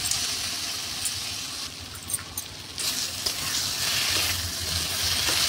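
Onion and spices fry for a kachurlota (mushroom) curry in a pan, giving a steady, close sizzle with small pops and scraping sounds, and no talk.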